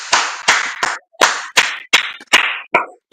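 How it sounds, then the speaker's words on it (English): Sharp, loud claps or smacks land in an uneven rhythm, about nine strikes in three seconds, each ringing briefly, in a sports talk show segment about a New Orleans Saints loss to Atlanta. "Let's give a round of applause for one of the best kickers I've ever seen, Blake Grupe."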